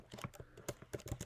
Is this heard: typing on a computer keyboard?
yes